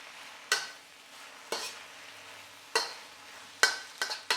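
Vegetable chow mein noodles with lengthwise-cut spring onion are stir-fried in a hot pan. A soft continuous sizzle is punctuated by about six sharp scraping tosses at uneven intervals, close and without talk.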